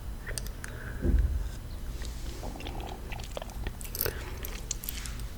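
Crunchy snack from a jar bitten and chewed up close, with one firm crunch early on followed by softer, scattered chewing crackles over a faint background hiss.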